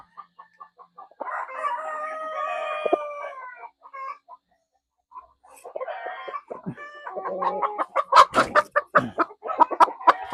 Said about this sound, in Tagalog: Ito yung rooster. Napakalaki.